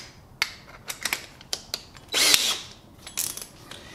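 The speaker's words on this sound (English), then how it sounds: "a drill" A power drill bores through GoBoard tile backer board, giving a string of short, sharp bursts and clicks close by, with one longer whirring run in the middle, and no voices.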